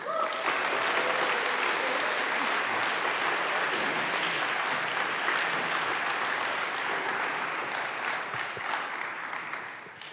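An audience at a college chapel talk applauds to welcome a speaker, a sustained dense wash of clapping from a large crowd that holds steady and tapers slightly toward the end.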